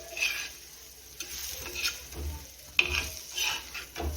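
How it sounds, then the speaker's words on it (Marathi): Fish frying on a flat pan for a few minutes and being turned, a soft steady sizzle broken by light scraping and stirring clinks, close and moderately quiet with no talking. "आता फ्राय करून घेऊयात दोन ते चार मिनिट फिरवून घेऊया थोडासा मासा"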